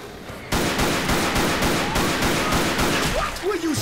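Rapid automatic gunfire in the zombie shooter Left 4 Dead, a dense rattling burst of closely spaced shots starting abruptly and running steadily for several seconds, loud and near, with a brief voice near the end.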